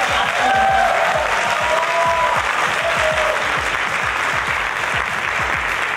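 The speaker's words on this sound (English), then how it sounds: "let's begin with a huge round of applause for our superstar." A large crowd in Dubai erupts in loud, sustained applause to welcome film star Salman Khan at a Being Human launch event, with dense clapping and faint cheering tones running throughout.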